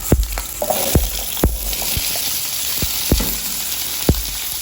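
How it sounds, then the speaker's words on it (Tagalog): Potatoes and carrots for beef caldereta fry in hot oil with a dense, continuous sizzle, punctuated by several sharp clacks and scrapes of a utensil against the pan. "Tapos guys, pipirituhin natin ang ating patatas at carrots."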